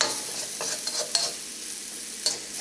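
Tomatoes for a spicy Kerala-style chicken curry cook over a low flame, giving a steady soft sizzle with a few clinks of a stirring spoon against the pan, close and quiet, with no voices.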